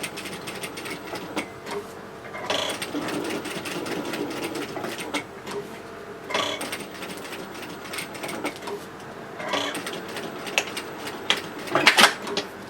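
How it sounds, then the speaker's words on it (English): A sewing machine stitches a rectangle around a fabric loyalty-card wallet piece, its motor whirring in close, steady runs broken by short pauses and a few louder bursts near the end. "So I'm stitching this in place simply just by running a line of stitches around the outside in a rectangle."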